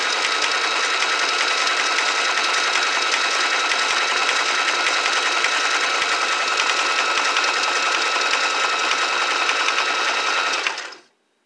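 A Singer Simple 3337 sewing machine runs a decorative stitch in one steady, continuous whir for about eleven seconds, close and loud, then stops abruptly.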